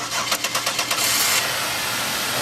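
A car engine cranks with rapid rhythmic pulses, then catches and runs with a steady, broadband roar, fairly close and loud with no talking. The car shows exhaust back pressure.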